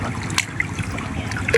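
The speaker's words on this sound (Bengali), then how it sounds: "তো এখন হালকা বৃষ্টি নামতেছে" Light rain falls beside a seedbed field where fishing hooks are set, a steady soft trickle and patter with a few brighter drips, continuous and close, with no talk.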